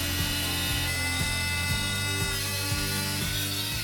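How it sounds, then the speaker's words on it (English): Oscillating multi-tool fitted with a saw blade of uncertain metal or wood rating, cutting steadily with a loud, dense buzzing whine and regular rhythmic pulses throughout, no voices. "that is this oscillating multi-tool, and it has this saw blade"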